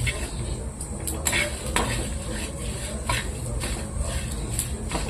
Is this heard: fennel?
yes